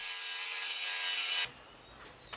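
A grinder sands red paint off wooden rafters during a rural house remodel, a loud, close, steady abrasive rasp lasting about a second and a half before cutting off abruptly, followed by near quiet and one faint knock.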